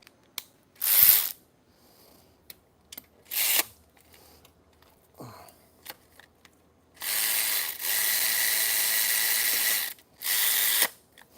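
A ratchet wrench loosening four 12 mm bolts during a cam gear replacement on an engine, heard as separate close bursts of rapid ratcheting clicks, the longest run lasting about three seconds, with quiet pauses and small knocks between.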